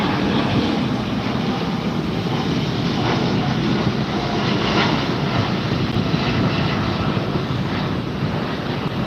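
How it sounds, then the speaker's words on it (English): A China Air Cargo plane taxiing at Los Angeles International Airport, its engines giving a steady, loud broadband roar that holds evenly throughout with no talk. "And the China Air Cargo is taxiing in."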